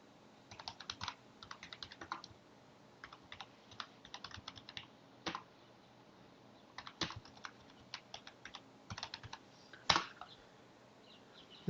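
Someone types a file number and date on a computer keyboard in irregular bursts of quick, close key clicks, with pauses between groups and one sharper tap near the end.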